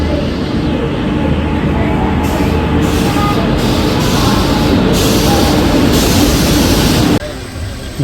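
A crowded passenger train rides toward Angamaly, filling the carriage with a loud, steady rumble and rattle that continues throughout, with a brief dip near the end and faint murmuring voices beneath.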